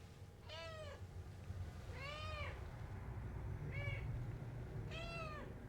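Cats meowing indoors during a cat-sitting stay: four distinct, fairly close meows spaced a second or two apart over a quiet low hum.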